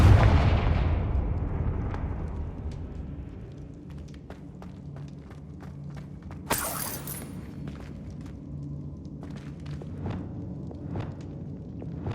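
Confringo blasting spell in the PS5 game Hogwarts Legacy, one heavy booming explosion at the start that fades into a long rumbling tail, followed by a sharp burst and scattered small pops and crackles.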